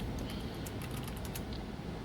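Quiet, scattered keystrokes on a Dynabook laptop keyboard at a docking station, light clicks over a constant low hum with no talking.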